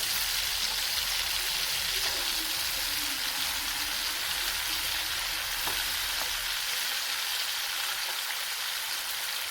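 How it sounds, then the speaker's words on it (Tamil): Paneer frying in a pan, a continuous broadband sizzle hissing steadily for the whole stretch, with faint occasional pops and a low background hum fading near the end. "எல்லா பன்னீரையும் நம்ம பேனுக்கு மாற்றி வச்சு இப்போ நல்லா வேகட்டும்"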